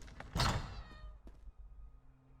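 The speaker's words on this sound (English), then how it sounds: "Lots of kitties." Cats meowing in the video game Elder Scrolls Online, a short burst of meows near the start, then quieter game ambience with a soft thump.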